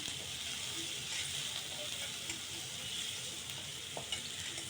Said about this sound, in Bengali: এখন আমি ঝাল পেঁয়াজ দিয়ে দিচ্ছি তেলের ভিতরে